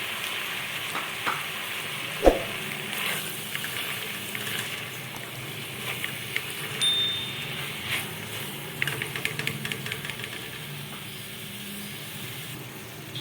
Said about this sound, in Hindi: इसको भी 2 मिनट के लिए हम हल्का सा फ्राई करेंगे।